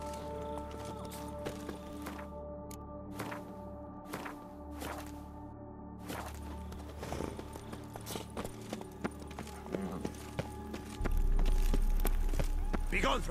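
Hoofbeats of the horse Roach in The Witcher 3, a rhythmic clip-clop of steady steps under a character's spoken lines, with a swelling rumble building near the end.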